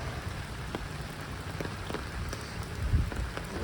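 Rain falling into an outdoor puddle, a steady dense patter of drops with scattered sharper individual drips, fairly close and uninterrupted.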